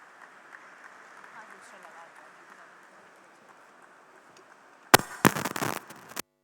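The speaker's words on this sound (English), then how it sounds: "please give a round of applause for Dr. Sawant." Applause from a convention audience breaks out abruptly near the end after a stretch of quiet talk, loud, dense clapping lasting over a second.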